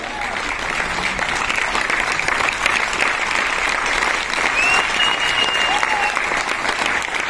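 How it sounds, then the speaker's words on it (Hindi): A dense, sustained round of applause from a large crowd at an event fills the whole stretch, loud and steady without a break. "मैं उनके तालियां बजवाना चाहता हूँ"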